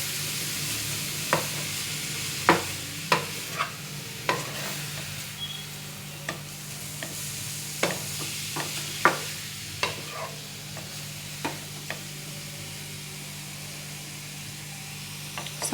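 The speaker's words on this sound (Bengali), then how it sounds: "ঘিটা গরম হয়ে গেছে এবার দিয়ে দিচ্ছি গ্যাসের ফ্লেমটা মিডিয়াম করে দিয়েছি এবার গাজরটা একটু নেড়ে নেবো" Grated carrot stirred in hot ghee over a medium flame for carrot laddu: a soft, steady sizzle runs throughout, broken by about a dozen sharp, irregular scrapes and taps of the spoon against the pan.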